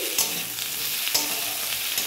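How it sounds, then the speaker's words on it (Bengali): Potatoes sizzling in hot oil in a pan for a Bengali fish recipe, a steady close crackling hiss punctuated by two quick scraping stirs. "আলুটাকে খুব ভালো করে একটু ভেজে নিচ্ছি"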